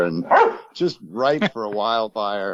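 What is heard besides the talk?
dog barking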